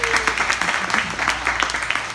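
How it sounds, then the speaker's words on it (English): A seminar audience applauds a speaker's 34-and-a-half-year happy marriage, a brief burst of clapping with distinct individual claps fading over two seconds, with a voice briefly present. "So that deserves a round of applause."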